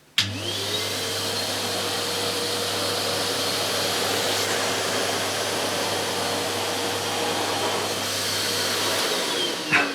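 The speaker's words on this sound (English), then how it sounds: "I'll do 1 stripe here, forward and back, and then I'll compare it using the turbo nozzle on the other side." A Numatic Harry vacuum cleaner runs over carpet with a constant loud whooshing hum, a steady motor tone underneath, holding level for nearly the whole ten seconds before the drone cuts off near the end.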